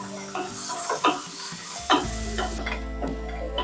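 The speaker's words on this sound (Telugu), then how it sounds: "అల్లం వెల్లుల్లి పేస్ట్ వేసేసుకొని బాగా వేయించేసుకుంటున్నాం" Ginger garlic paste frying in a pan with bay leaf for a Rayalaseema-style mutton head curry gives a steady, close sizzle, with stirring scrapes and clicks throughout and a low hum entering midway.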